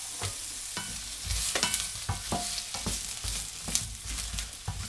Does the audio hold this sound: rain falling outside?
no